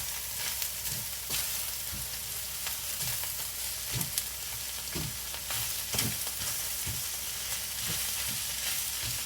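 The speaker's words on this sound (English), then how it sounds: "Now we're going to add the meat into the well and mix it through." Minced meat fries with tomato in a pan, a steady soft sizzle broken by a regular run of scraping, clacking stirs, heard close and fairly quiet, with no voices.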